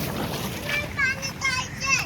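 A child walks and splashes through the water of a filled dam in a green forest, giving soft repeated splashes close by, with children's voices and adults talking over the top.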